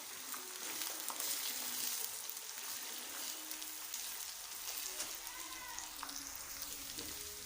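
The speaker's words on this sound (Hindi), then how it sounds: "यहाँ पर मैं एग शामिल करने लगा हूँ एक साइड पर। इसको हमने आराम के साथ एक साइड पर पकाना है।" Faint, close sizzle of an egg frying in a pan beside okra, a soft crackle like light rain with occasional scrapes, a low voice murmuring underneath.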